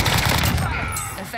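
Bullfrog submachine gun firing in Warzone, a dense burst of rapid automatic shots, loud and close, with a voice faintly mixed in during the burst.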